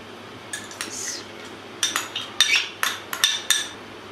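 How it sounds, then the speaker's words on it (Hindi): A metal spoon clinks and scrapes against a cooking pot as fresh cream is added to rice kheer, with a quiet pause followed by a quick cluster of sharp, close clinks. "अब मैं इसमें क्रीम डालूँगी।"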